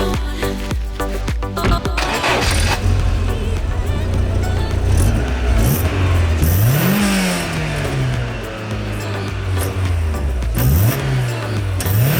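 An MG MGF sports car's engine starts with a few sputtering turns, then settles and revs repeatedly on a drive, the pitch climbing and falling in several distinct swells, close and loud with no talking.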